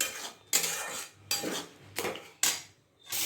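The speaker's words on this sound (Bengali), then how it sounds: "এবার মশলা আমি খুব ভালো করে কষিয়ে নেব।" Metal spoon scraping and knocking around a cooking pan while spices are sautéed for a jackfruit curry, with four distinct bursts of clattering scrapes in a steady rhythm, close and fairly loud, no talk.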